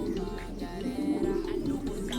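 Dark checkered pigeons coo softly in a low, continuous murmur of overlapping throaty calls, close by and with no talking.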